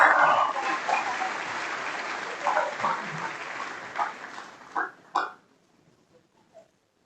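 A crowd applauds at a 2022 school sports awards dinner. Steady clapping fills most of the stretch, thins to a few last loud claps near the end, then the room falls quiet.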